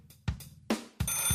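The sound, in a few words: old telephone ringing sound effect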